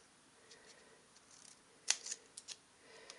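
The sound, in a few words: trimming card with scissors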